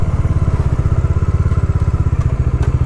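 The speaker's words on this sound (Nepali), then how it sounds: "त्यस्तो एनोइङ साउन्ड आइरहेको हुन्छ इन्जिनबाट" A Bajaj Dominar 400 motorcycle engine with a shim noise fault idles close by, making a loud, steady, rapid thumping pulse with a faint ticking clatter above it throughout.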